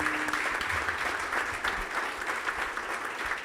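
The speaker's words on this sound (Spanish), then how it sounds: "Un aplauso" A church congregation applauds steadily, the dense clapping holding at an even level for the whole stretch.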